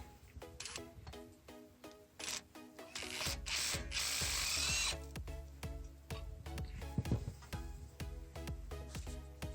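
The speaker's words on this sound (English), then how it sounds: "let's take that 3rd bolt off" A power tool rattles and ratchets in repeated bursts while undoing engine bracket bolts on a Honda CR-V during engine removal, with sharp mechanical clicks between runs and one longer whirring spell.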